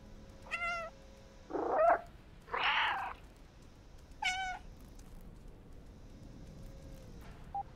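A cat in the video game Stray meows several times, short distinct calls with pauses between them, near and clear, with a faint background hum and no talking.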